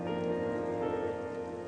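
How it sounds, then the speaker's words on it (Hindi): Heavy rain pours down in a steady, dense hiss with no letup, joined by a faint sustained tonal hum underneath. "कितनी तेज बारिश हो रही है।"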